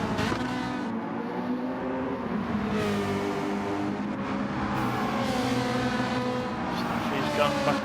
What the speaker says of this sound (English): you just hear that tyre, those tyres protesting on the Mazda 3 there